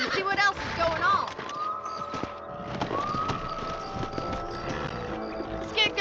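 Horse hooves clip-clop at a steady pace in the Red Dead Redemption video game, with a whinny early on, game music and ambience around them, and voices talking over it.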